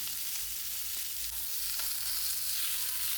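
Dried shark pieces frying in a pan for a home-cooked meal alongside shallot sambar, giving a steady, close hiss and sizzle of hot oil with faint stirring, no voices.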